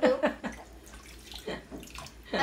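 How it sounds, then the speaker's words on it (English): A silicone plunger washed under running water, with splashing gushes that come and go in bursts, fairly close. "And you see here, we are washing it."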